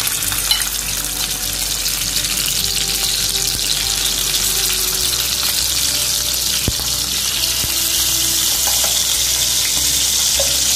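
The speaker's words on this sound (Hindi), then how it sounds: "अभी चिकन को मैं थोड़ा सा फ्राई करूंगी।" Chicken pieces shallow-frying in hot ghee for a Kolkata restaurant-style chicken chaap give a loud, steady sizzle throughout, with a few faint clinks and no talking.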